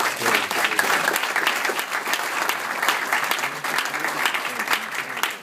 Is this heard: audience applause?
yes